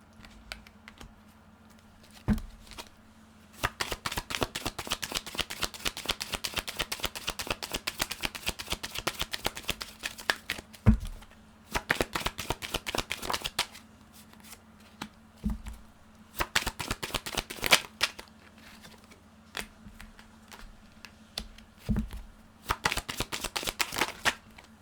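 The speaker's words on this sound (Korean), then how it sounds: "추가 카드 좀 뽑아보도록 할게요" Tarot cards shuffled in several long bursts of dense, rapid riffling, close and fairly loud, separated by short pauses; no talking.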